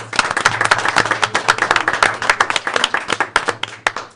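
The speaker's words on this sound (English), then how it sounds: "Round of applause." Close, loud clapping from the audience at a school board of education meeting, a fairly small group with distinct, rapid individual hand claps that fade near the end.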